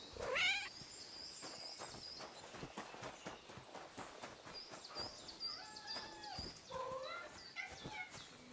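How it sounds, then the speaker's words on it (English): Cats meow repeatedly in the video game Kingdom Come Deliverance 2, a cluster of high calls near the start and more later, over a busy background of footsteps and ambient clatter. "Is that... meowing?"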